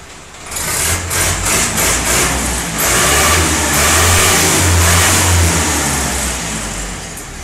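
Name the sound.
Indo Farm 3055 tractor diesel engine running after pump service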